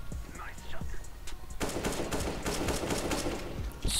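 Rapid automatic gunfire in the video game CS:GO, a dense burst of repeated shots that starts partway through and runs loud and steady to the end, with a few scattered reports before it.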